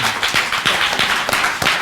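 Applause from an audience at a public meeting on sheltering the homeless, a short burst of dense, steady clapping with a few sharper individual claps standing out.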